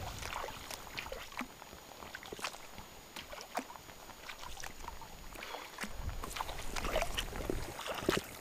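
A kayak is paddled along a creek off Beaverhouse Lake. There is soft, steady water swishing and dripping from paddle strokes, with faint splashes. It stays quiet and close, and no one talks.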